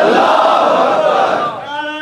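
A large crowd at a Muharram religious gathering roars back a loud, sustained chant in unison, answering a raised slogan before the voices fade out.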